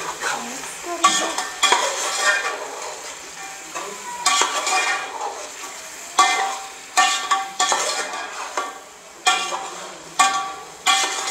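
Potatoes for chicken qorma are stirred in a pan with a spoon: a close run of repeated scraping and clattering strokes in an uneven rhythm, with faint sizzling underneath and no talking.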